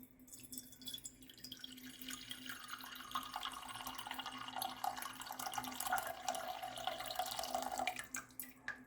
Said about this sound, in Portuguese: Eu vou despejar esses 500 ml na panela